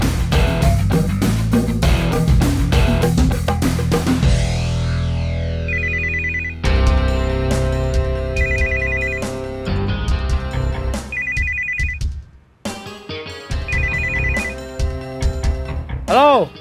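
A telephone ringtone rings repeatedly in a drama scene, a bright electronic melody of spaced bursts heard over a background music score and scene sounds, fairly loud and close throughout.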